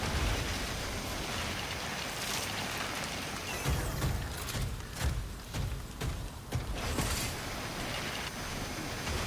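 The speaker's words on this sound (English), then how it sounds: "This should definitely be a mission to move with all this rain." Steady rain hisses throughout a mission in the video game Synduality: Echo of Ada, with some mechanical movement sounds mixed in partway through.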